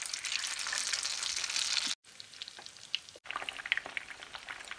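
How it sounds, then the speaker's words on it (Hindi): Chicken pieces frying in hot oil give a loud, dense close-up sizzle with bright crackles, broken by two brief cuts of silence and returning slightly quieter with scattered pops. "चिकन को फ्राई कर लेते हैं और उसी ऑयल में फ्राई कर रही हूँ जिसमें मैंने पहले चिकन को फ्राई किया है"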